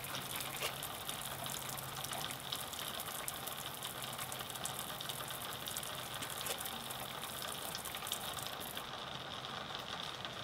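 A homemade survival shower sprays cold water in a steady, loud, unbroken hiss of spray and splashing that runs the whole length without a break.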